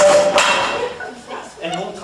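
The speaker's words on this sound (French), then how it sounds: "Donc pour planter un clou, du coup, prendre un marteau adapté" Hammer striking a nail, a few sharp metallic knocks near the start followed by clattering, with a voice talking over parts of it.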